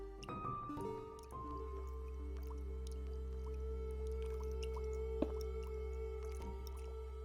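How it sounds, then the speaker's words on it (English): Dripping in a blocky building game, with sparse, soft drips and squishy plinks at irregular intervals, faint against a steady hum and droning tones. "I like the dripping noise."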